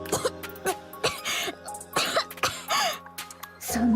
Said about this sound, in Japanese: その咳治らないの？